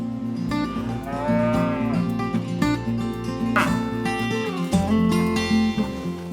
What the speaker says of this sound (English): these rare cows are primarily found on specialty farms